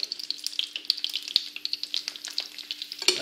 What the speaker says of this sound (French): Voyez, je prends mon beurre et je viens l'arroser.